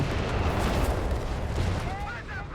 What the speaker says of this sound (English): Mortar finds the remaining Stuart there, forcing it back.